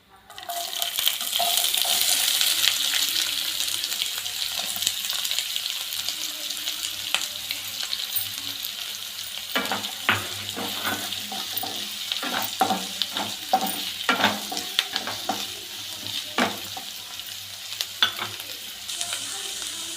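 Chopped onions crackle and sizzle steadily in hot oil, with a stirring utensil scraping and clinking against the pan.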